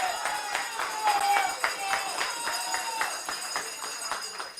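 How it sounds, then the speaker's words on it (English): Audience applause at a JLP Young Jamaica Central Kingston chapter launch, steady dense clapping throughout with crowd noise and a voice speaking over it. "Give them a round of applause."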